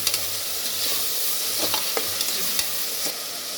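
Tomato and onion sautéing in a pan with rock salt for a vegetable mutton curry, a continuous loud sizzle with repeated close scraping stirs.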